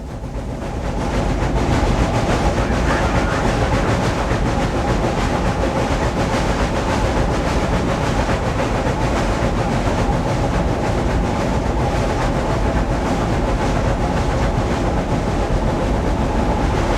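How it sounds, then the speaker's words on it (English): A Union Pacific Challenger 3985 steam locomotive climbing Cajon Pass rumbles loudly and continuously nearby, with a dense rhythmic exhaust chuffing that quickens and mechanical clatter that holds steady without pause. "you can almost hear immediate results as the cadence of the exhaust begins to quicken"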